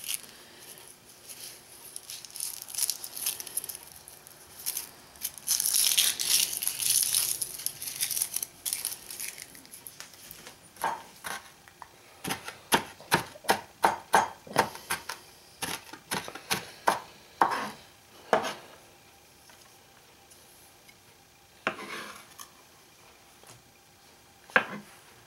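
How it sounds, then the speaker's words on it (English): A knife mincing a shallot on a cutting board, camp-style: a crinkling rustle first, then a long run of quick, sharp chops in bursts, close and fairly quiet, no voices. "we're going to basically just chop this shallot up, just mince it up and throw it on in"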